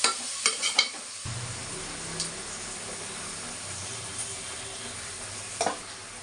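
Spices being stirred into ridge gourd curry frying in a pan, a steady low sizzle running throughout with a few clinks and scrapes of the spoon near the start and one more toward the end.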